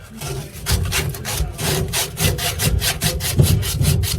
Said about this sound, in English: That's just my hacksaw.